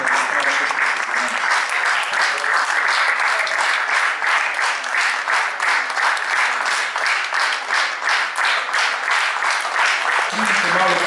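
Concert audience in a theatre applauding, dense continuous clapping that stays loud and even for about eleven seconds, with a few voices rising near the end.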